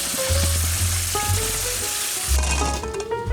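Butter and washed cranberries sizzle steadily in a pan on a little below medium heat, a loud close continuous frying hiss with occasional stirring clatter and faint background hum.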